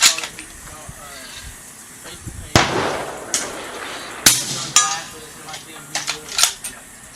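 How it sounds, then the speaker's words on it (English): .300 Knockout suppressed rifle firing subsonic ammunition, several sharp muffled cracks spaced a second or so apart at close range, each with a short hissing tail, with someone talking between shots. "So first I'm going to take a couple shots at 100"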